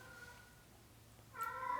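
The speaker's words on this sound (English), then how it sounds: "Sorry, that's the cat." A single short cat meow rises near the end over quiet room hum, fairly close and moderately loud.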